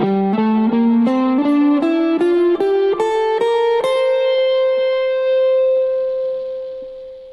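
A clean-toned guitar climbs a G Dorian scale note by note at a steady pace, ending on a long sustained note that slowly fades.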